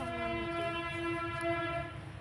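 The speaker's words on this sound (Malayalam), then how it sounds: "ട്രെയിനിന്റെ സൗണ്ട്." A train horn blows one long, steady, loud blast for about two seconds, then cuts off, leaving low rumbling rail noise behind.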